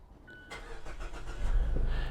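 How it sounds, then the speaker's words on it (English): A car engine cranks and catches at the start of a drive to demo a USB car charger, rising from a quiet cabin into a steady, close idle rumble with no talking. "Now let's start the car."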